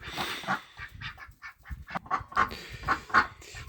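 Domestic ducks quack in a rapid, uneven series of honking calls close to the microphone, several birds overlapping for a few seconds with no talking.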